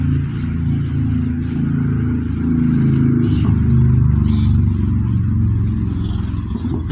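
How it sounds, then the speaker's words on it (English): A motorbike passes along a country lane near a disused railway trail at Skegby, its engine rumble swelling to a steady, loud roar over several seconds and then easing slightly as it goes by. "There's a motorbike coming."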